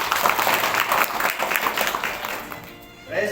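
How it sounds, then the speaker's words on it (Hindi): Congregation clapping at an Easter Sunday church worship service, a loud burst of applause that fades over about three seconds before a voice begins to speak. "जोर से ताली बजाएंगे।"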